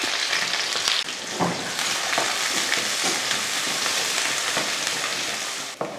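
Fennel, cardamom, cinnamon, cloves, onion and curry leaves fry in hot oil with a loud, dense, steady sizzle, close up. A few sharp stirring scrapes break through, and no one speaks.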